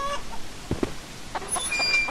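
Chicken clucking inside a video game set in Japan, a few short clucks over steady background game ambience.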